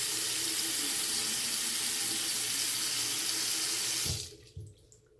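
Tap water runs steadily into a slow-draining bathroom sink as a continuous hiss and splash, then the flow is shut off and a few faint drips and gurgles follow.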